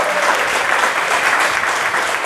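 Audience at a poster launch event clapping together in loud, dense, continuous applause throughout.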